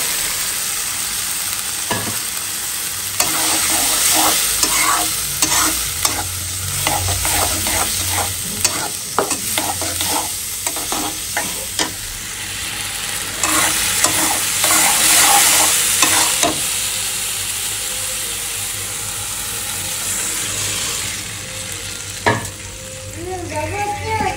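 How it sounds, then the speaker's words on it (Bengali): Dal being stirred into fried ginger, garlic, onion, dried chilli and turmeric in a pan, with a steady loud sizzle and a quick run of close scraping spoon strokes, alone without speech. "এখানে আদা রসুন দিয়েছি, পেঁয়াজ, একটা শুকনো মরিচ, হলুদ গুঁড়ো। আর এখন আমি ডাল দিয়ে দেবো।"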